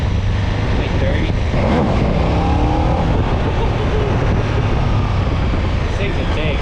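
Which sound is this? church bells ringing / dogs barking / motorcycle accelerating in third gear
motorcycle accelerating in third gear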